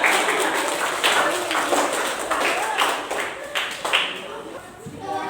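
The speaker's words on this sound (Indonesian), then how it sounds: "Oke, tepuk tangan buat semuanya." A group clapping together in a floor gymnastics lesson on forward rolls, a fairly loud burst of many hands with a few distinct pulses, and voices talking under it.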